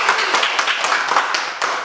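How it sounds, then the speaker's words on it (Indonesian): Children in a classroom clap for a classmate, a quick run of sharp, uneven claps filling the whole moment at close range. "Tepuk tangan untuk Aceh"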